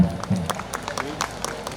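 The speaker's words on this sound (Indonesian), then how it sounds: "tepuk tangan untuk Lion" Applause at an evening reception for the anniversary of Kabupaten Malang, with irregular claps from the audience blending into a steady crowd noise under a speaking voice.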